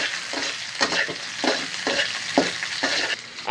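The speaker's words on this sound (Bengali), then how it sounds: "প্রথমে আমরা এখন ফুলকপি ভাজবো, এখন বরবটি ভাজবো।" Cauliflower and yardlong beans fry in oil, a constant bright sizzle punctuated by regular stirring strokes roughly every half second, near and fairly loud without speech.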